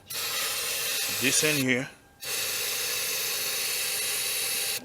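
An aerosol can sprays into the engine of a 2013 Kia Forte that cranks but won't start, making a loud, steady close-up hiss that stops briefly and then resumes. Someone speaks a few words over it.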